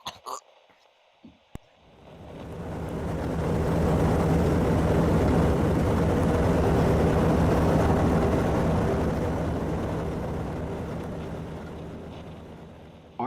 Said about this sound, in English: Army bombing plane V-843 off Bayonne, New Jersey.